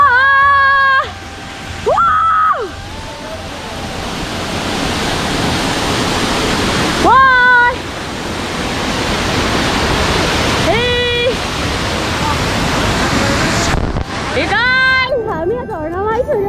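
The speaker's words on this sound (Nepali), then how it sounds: "हामी यहाँ झरनामा आइसकेका छौँ" Jhor waterfall near Kathmandu roars as a steady, loud broadband rush throughout, while voices break in briefly several times over the water.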